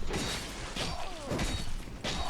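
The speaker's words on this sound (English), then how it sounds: "Yep, that's the sound of him dying." An enemy's death in Dark Souls II, in the Crown of the Ivory King DLC, comes as a short cluster of crunching, shattering impacts and a thud, close and fairly quiet.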